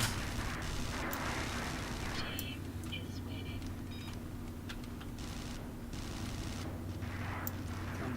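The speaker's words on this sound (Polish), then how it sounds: "Ktoś strzela." Distant gunfire in the sci-fi shooter Interstellar Marines comes as scattered muffled pops and bursts over a constant droning in-game background hum.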